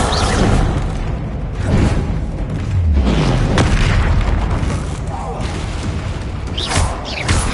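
Dense, continuous explosive booms and whooshes from Bombarda spells and other combat magic in the Hogwarts Legacy video game on PS5, loud throughout with overlapping blasts and swishes, and voices heard under the din.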